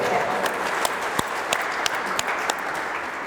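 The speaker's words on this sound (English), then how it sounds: "Give her a round of applause" Applause from an audience at a Cameroon flag raising ceremony, a sustained wash of many hands clapping with a few louder individual claps standing out, moderately distant.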